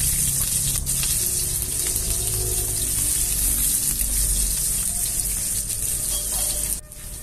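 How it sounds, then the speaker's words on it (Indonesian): Shallots and garlic fry in a little oil, giving a steady, loud sizzle that runs almost unbroken and then drops off near the end. No voices are heard. "Masukkan sedikit minyak, goreng bawang merah,"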